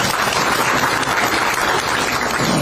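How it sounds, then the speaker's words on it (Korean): A crowd at a political rally in Gokseong gives a dense burst of applause, many hands clapping at once in a loud, continuous wash with no talk over it. "이럴 때 박수 한번 쳐주세요."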